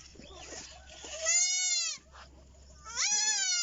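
A goat mother bleats loudly three times at close range on a farm, each call a long wavering cry, with quiet rustling between calls.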